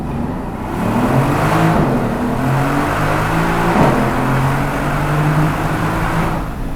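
A 2020 Mercedes-AMG GLC63S Coupe pulls hard from first gear. The loud engine note climbs steadily, with brief dips at two upshifts, and the growl is heard from inside the cabin.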